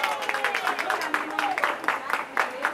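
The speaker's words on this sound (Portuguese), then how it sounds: "Vem cá, uma salva de palmas," A small group of people applaud at a father's birthday party in Cangaíba, in São Paulo's east zone, with close, uneven rapid claps mixed with voices talking over them throughout.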